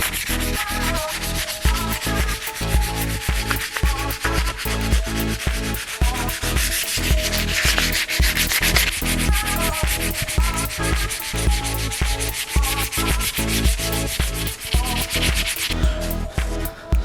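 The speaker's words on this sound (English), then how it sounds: "we're just going to sand it and see if we can get a rough shape out of it" Continuous rough sanding of cured body filler, rhythmic back-and-forth abrasive strokes, close and steady for the whole stretch.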